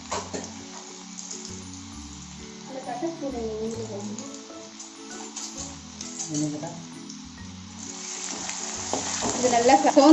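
Chopped garlic and ginger fry in hot oil for a fish-based dry fish thokku, a steady sizzle with stirring and scraping that rises louder toward the end, under someone talking.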